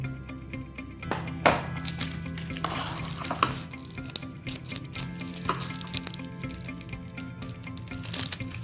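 Noodle kabab mixture tossed with ketchup, chili garlic sauce and spices in a bowl, giving close, irregular clinks and soft squishy stirring with a few sharper knocks against the bowl.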